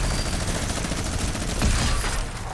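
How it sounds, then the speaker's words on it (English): A gold heavy AK fires in a Modern Mansion gun-game match: a dense, loud, continuous stream of automatic video game gunshots with a slight swell near the end. "Now we have the gold version with the heavy AK."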